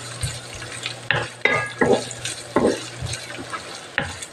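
A spoon stirs and scrapes ingredients around a sizzling frying pan for a Chinese-style rice dish similar to paella, giving several clattering strokes over a steady fry, close and fairly loud with no talk.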